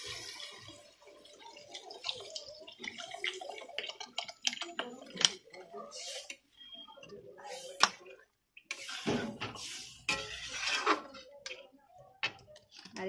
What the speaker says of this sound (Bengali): আমার ভাজাটা হয়ে গেছে, এবার জল দিয়ে দেবো